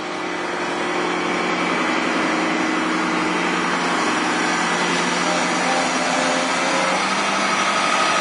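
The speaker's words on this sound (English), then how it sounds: "We have two pumps going in this dam and filling up nicely." Two gas-powered water pumps run at a culvert dam during a culvert replacement, giving a loud, steady engine drone with a high whine that holds constant throughout, close by and with no talk.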